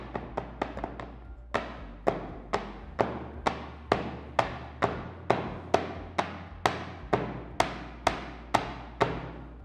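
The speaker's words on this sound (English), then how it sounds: "Once again, I'll just gently tap." A mold filled with Jesmonite AC10 is tapped steadily on a hard surface, about twenty close, even thuds with a rhythmic beat, fast at first and then settling into a regular pace, with no talking.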